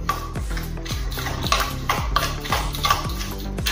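A spoon scrapes and clinks in a steady rhythm of strokes about every half second against a bowl, stirring homemade red chilli pickle masala with mustard oil.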